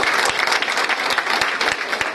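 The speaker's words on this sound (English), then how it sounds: "clap that up" Audience applause at a high school football banquet, a dense, steady wash of many hands clapping close by, sustained without a break and with no talking over it.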